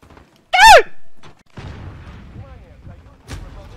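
A grenade blast in Call of Duty: Modern Warfare, a short loud burst with a harsh descending whine, followed by several seconds of lower rumbling in-game ambience and a faint later thud.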